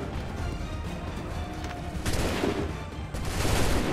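Musket volleys crackle through a battle in Assassin's Creed 3, with dense, continuous gunfire and stronger bursts near the end, set against loud battlefield din and no clear talk.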